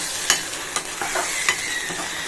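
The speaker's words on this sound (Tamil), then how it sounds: "இப்போ நம்ம அரைச்சி வச்சுருக்கிற தக்காளி விழுத பேஸ்ட் அப்படியே சேர்த்துருவோம் அதுவும் நல்லா இது கூட சேர்ந்து வதங்கட்டும்" Tomato paste sautés with onions in a pan, giving a close, bright sizzle with a few sharp stirring scrapes against the metal over a couple of seconds, and no one talking.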